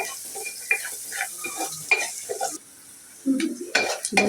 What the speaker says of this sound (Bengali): পেঁয়াজটা আমি ভালো করে ভেজে নিব।